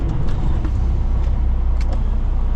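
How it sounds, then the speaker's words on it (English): A large semi truck idles with a deep rumble while its air brake system builds pressure, with brief hissy bursts of air over the engine. "let the truck air up here"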